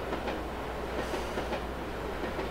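A steam-locomotive-hauled freight train pulling away in the railway simulation game A-Train 9 gives a steady rumbling roll with soft rhythmic clacking, continuous and moderately loud, with no one talking.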